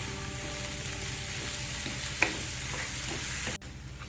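Vegetables sauté in a pan for a paneer kathi roll, sending up a continuous crackling sizzle with faint stirring scrapes, one sharp clink partway through, and a sudden drop in the frying noise near the end.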